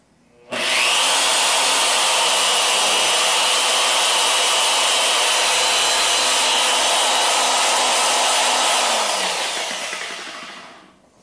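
A Clover CT9000 long-throw car polisher spins up with its slow start, a loud steady whirring drone that holds for several seconds and then winds down, heard alone up close.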